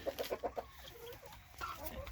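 Chickens in a coop cluck in a quick run of five or six short notes, then give softer scattered clucks and a few faint higher calls.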